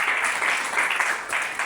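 A church congregation claps in applause, a continuous loud patter that swells and dips slightly over under two seconds, with no talk over it.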